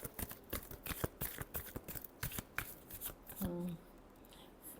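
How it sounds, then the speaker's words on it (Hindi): Tarot cards being shuffled by hand in a rapid run of crisp riffling flicks and soft slaps, close and fairly quiet, with a brief low murmur of voice near the end. "Last shuffle."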